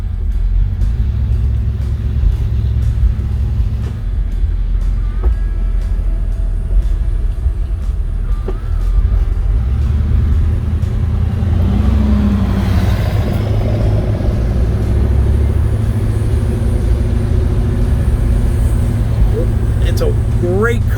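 A 1953 Ford Crestline Victoria with a V8 and automatic transmission drives along, its steady low engine rumble and road noise continuous throughout, with someone talking over it.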